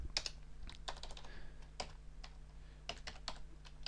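Rapid, uneven keystrokes on a computer keyboard while a domain name is typed in, close and crisp, coming in short clustered bursts with brief pauses and no talking.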